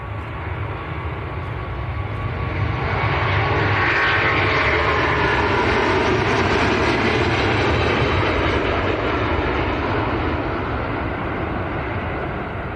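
A Virgin airliner departs Manchester bound for Las Vegas, its engines a loud, sustained broadband roar that swells in the middle and fades slightly toward the end, with no talking over it.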